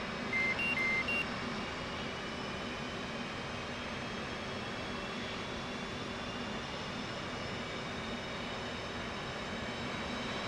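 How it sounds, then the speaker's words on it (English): Simulated F/A-18C jet engine spooling up during a cold start in a flight simulator game: a steady, continuous turbine whine and broadband roar with rising tonal hum, joined briefly near the start by a few electronic cockpit beeps. "whilst we're waiting for the engine to spool up"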